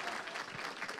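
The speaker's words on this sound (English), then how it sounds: "not only do you deserve a round of applause" Applause from an audience at a town hall meeting, a dense steady patter of hands filling the whole moment at a moderate, somewhat distant level.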